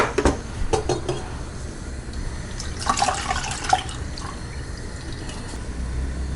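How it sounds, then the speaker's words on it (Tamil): Water splashes into a pot of soaked tamarind for tomato rasam in a home kitchen, with trickling, dripping and a few clinks of utensils against metal. "திருப்பியும் கொஞ்சம் தண்ணி விட்டுக்கலாம்."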